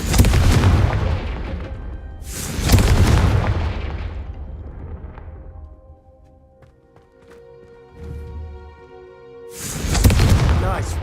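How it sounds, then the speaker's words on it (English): A Confringo fire spell blasts candelabras in the video game Hogwarts Legacy on PS5: heavy booming explosions open the scene, with a second soon after. Quieter tonal game sounds fill a lull before a final loud blast. "a Confringo cast travels a bit farther than that of a spell like Incendio"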